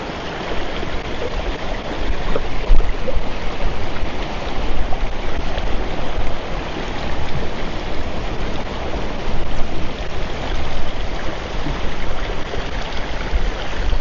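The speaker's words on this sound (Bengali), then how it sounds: "পাহাড় তো আশেপাশে, ওপর দিক থেকে জল এইভাবে আসছে।" A hill stream rushing down past rocks in a wooded area near a waterfall, a loud, close, unbroken wash of flowing water throughout.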